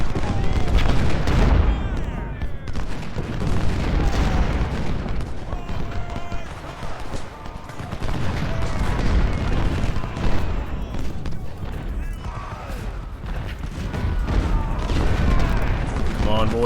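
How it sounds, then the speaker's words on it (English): Two artillery crews trade fire during a Civil War battle in the strategy game Ultimate General: Civil War, with dense booms and crackling musketry rolling on continuously and a voice talking over it. "Just in one part of the battle, 2 artillery crews are firing at each other."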